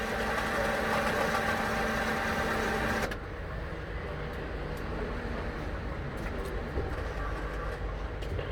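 A Ziraat Bankası ATM processes a phone bill payment deposit, its loud mechanical whirring running for about three seconds before dropping to a quieter steady hum with faint clicks.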